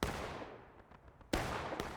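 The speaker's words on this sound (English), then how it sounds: "That cannon is doing some good work pushing them back." Cannon fire in the Civil War battle game War of Rights, with a heavy broadband blast at the start, a second loud boom midway and a lighter report just after, over the continuous rumble of battle.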